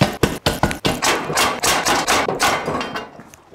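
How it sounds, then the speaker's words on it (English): Sharp metallic hammer blows strike close by, knocking out a rivet, fast and uneven at first, then settling into a steadier run of hits that fade slightly toward the end. "Let's see if I can hammer it out from the side."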